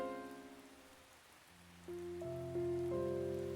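Heavy rain pours steadily in a video game, a constant hiss under sustained musical tones that grow louder partway through.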